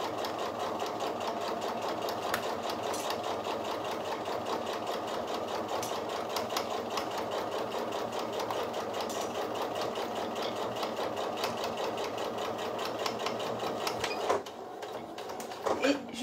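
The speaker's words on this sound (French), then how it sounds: "Je sécurise ma couture à la fin." A sewing machine stitches a seam at steady speed, a fast even mechanical rattle running continuously before stopping near the end as the seam is secured, with a voice speaking faintly underneath.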